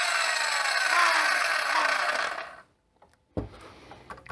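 A 7¼ inch, 15 amp circular saw runs with a loud, high, steady whine, spins down and goes quiet for a moment, then gives a short thump and clatter as it is set down.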